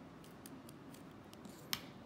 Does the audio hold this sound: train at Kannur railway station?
no